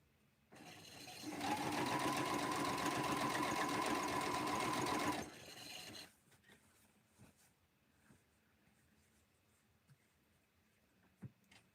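A sewing machine sews quilt binding at three-eighths of an inch in one steady, fairly loud run of about five seconds, then stops, leaving faint rustling and small clicks.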